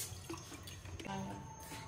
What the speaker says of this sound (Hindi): हमने इसके अंदर 2 कप डाल दिया है पानी